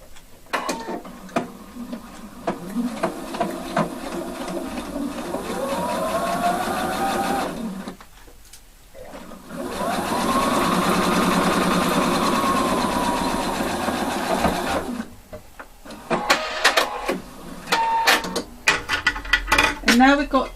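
A sewing machine runs in two long, steady bursts while stitching a 1 cm section of a jeans button fly, with brief pauses and fabric handling between runs, close and fairly loud.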